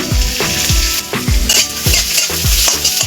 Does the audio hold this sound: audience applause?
no